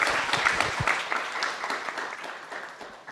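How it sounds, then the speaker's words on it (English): A conference audience applauds after a South China Sea panel discussion, a moderate, even patter of many hands clapping for a few seconds without any voices. "Let's give it a round of applause, please."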